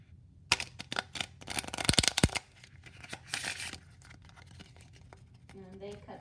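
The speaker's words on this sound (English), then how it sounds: "And now you're going to shuffle," A deck of playing cards is shuffled during a magic card trick, giving a dense burst of crisp riffling and snapping flutters followed by softer card handling, close and fairly loud, with no talking.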